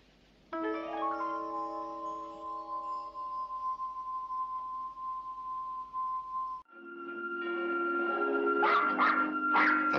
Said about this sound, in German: Du bist ein böser Hund.